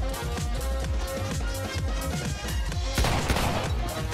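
Dense, continuous gunfire in the battle royale video game Islands of Nyne, a loud stretch of rapid shots that swells into a heavier burst near the end, with no talking.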